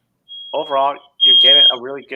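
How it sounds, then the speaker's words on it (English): A high, steady electronic alarm tone beeps in two stretches, the second louder, sounding over a voice as he talks. "I think that was the alarm, actually."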